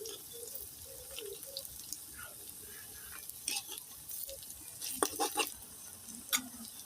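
Lachha semai pakoras frying in hot oil, a soft steady sizzle with occasional louder crackles and spatters and light stirring clinks, fairly quiet and close, with no talking.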